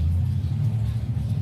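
Mustang car engine idling with a new torque converter, a deep low rumble that stays steady and close, with a voice talking over it.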